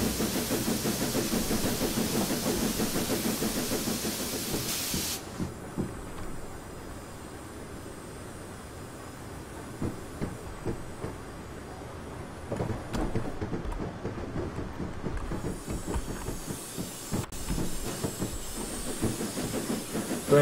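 A simulated LNER J50 steam locomotive on the West Highland Line in Train Simulator 2016: a steady hiss of steam over rhythmic rumbling and faint clickety-clack of wheels, with a brief sharp tonal burst early on.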